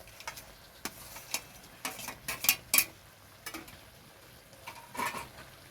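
Chicken tipped into a pan for chili chicken, a scatter of sharp metallic clinks and scrapes from spoon and pan, some quick and ticking, others louder, close by with no talk.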